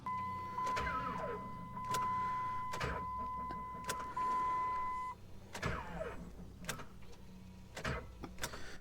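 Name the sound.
car engine cranking slowly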